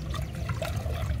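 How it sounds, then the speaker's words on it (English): Thick corn-flour paste for akume bubbles and is stirred in a hot pot in a Togolese kitchen, a short burst of wet gurgling and sloshing with no voices. "Now that our paste is boiling,"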